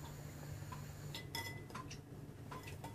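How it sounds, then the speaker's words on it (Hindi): A spoon stirs curd in a bowl for carrot raita, giving soft clinks and light scraping taps against the bowl over a faint background hum. "पहले एक बॉल में आप कर्ड ले लो, उसको आप अच्छी तरह से मिक्स कर लो"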